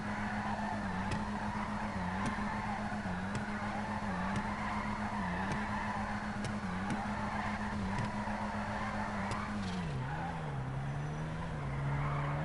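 In GTA Online a car drifts around pillars, its engine droning steadily while the tires keep up a long, wavering squeal that dips and rises through each slide.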